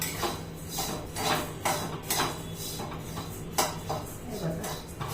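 Moong dal roasting in a pan over a low flame for halwa is stirred with a spoon, giving repeated scraping clinks against the metal at an uneven pace, close by, with a voice talking in the background.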